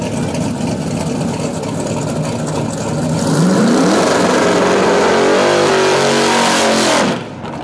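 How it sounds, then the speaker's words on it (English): At a no-prep drag strip, a 632 big-block car and a 351 turbo car roar off the line together, engines loud and close with a rising revving whine that builds, then cuts off abruptly. "That 632 big block is going to go up against Matt Searle."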